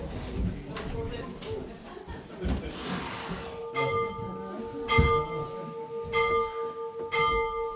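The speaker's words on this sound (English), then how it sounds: "the bell is still working, as you can see" A bell rings at an old wooden stave church in Norway, a few clear metallic strikes ringing out from 4 seconds on, while people talk and move about nearby.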